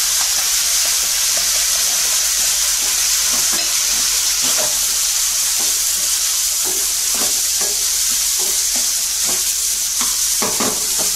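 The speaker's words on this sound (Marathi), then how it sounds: "डाळ 1-2 मिनिटं परतून घ्यायची आहे, मग सर्व मसाले घालायचे" Dal sautéing in a pan with onion and spices gives a loud, constant sizzle and hiss, with spatula stirring scrapes and taps scattered throughout, close and uninterrupted by talk.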